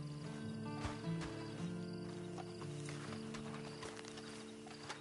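Horse hooves clip-clop at a steady walking pace in the video game Red Dead Online, moderately close, layered over a sustained musical drone and faint ambient game sounds, with no talking.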